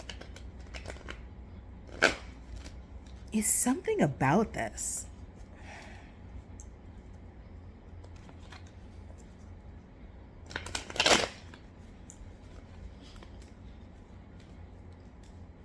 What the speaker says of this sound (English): So I split the deck to shuffle.